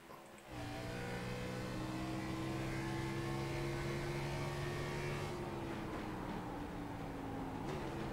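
A stock car in iRacing's Grand National Series at New Hampshire, a steady engine drone that rises in pitch, then shifts down with audible drops in engine note toward the end.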